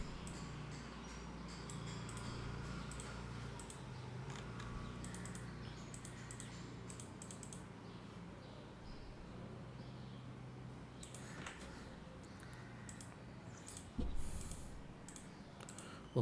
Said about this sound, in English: now we can start typing.